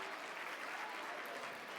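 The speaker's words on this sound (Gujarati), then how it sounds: "તાળીઓના ગડગડાટથી આપણે એમને વધાવીશું." A crowd at a school annual festival gives brief, dense applause to welcome a teacher, a steady wash of clapping heard from a distance.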